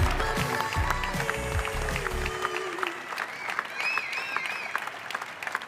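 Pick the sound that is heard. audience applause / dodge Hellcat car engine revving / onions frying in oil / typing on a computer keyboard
audience applause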